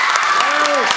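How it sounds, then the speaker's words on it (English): An audience at a live debate bursts into brief, loud applause, with a voice rising over the dense clapping. "give a round of applause if you think the affirmative has won this debate"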